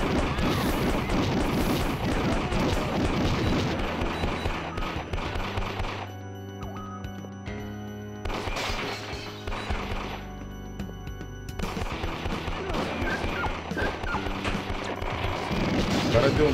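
Bursts of rapid gunfire crackle and boom in the arcade game Elevator Action Returns, a busy game soundscape, pausing briefly midway before the shooting resumes, loud and close.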